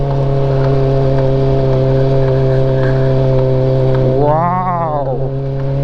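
A Honda CB400 motorcycle engine runs on a mountain road in Ifugao, a steady close idle-like drone that rises briefly in a quick rev near the end.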